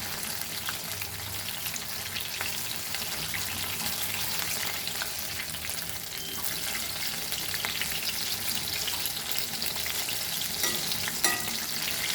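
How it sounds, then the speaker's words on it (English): Goan eggless banana fritters fry in hot oil, producing a steady, bright crackling sizzle that barely changes for the whole stretch, close by, with tiny pops and no speech. "Fry it golden brown"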